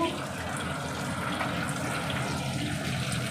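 Water poured off boiled potatoes, a steady splashing gush close by, with a voice talking over it.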